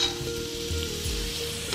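Nuts frying in hot oil or ghee in a pan while making sweet potato payasam, a steady close sizzle with light stirring scrapes, no voices.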